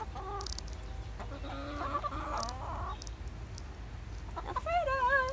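Backyard chickens cluck and squawk close by in a series of short, rising calls, with soft rustling and handling noises underneath.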